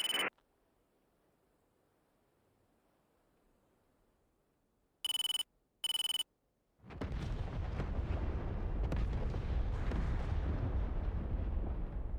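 40 mm artillery rounds impacting in the video game DCS: two short sharp bursts, then a sustained loud, rumbling roar of continuous impacts lasting several seconds.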